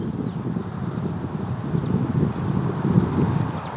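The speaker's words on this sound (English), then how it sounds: "That wind's really starting to get up now." A steady wind rushes and buffets across an open disc golf course in Christchurch, a continuous low roar with gusty microphone rumble and no talk.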